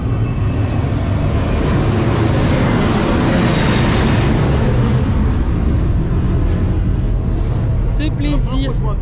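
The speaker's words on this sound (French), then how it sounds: "Si, décollage, on en voit plein" An airplane takes off near a beach on Mykonos, a loud continuous roar dominating the scene, with people talking underneath it.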